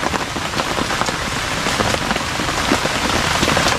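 Steady rain falls outdoors, a dense, even hiss of drops pattering on surfaces throughout, with no voices.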